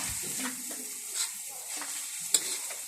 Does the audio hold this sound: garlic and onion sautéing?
yes